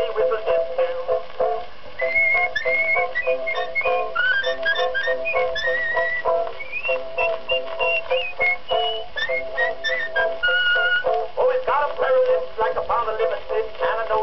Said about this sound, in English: any tandy witty whistle this too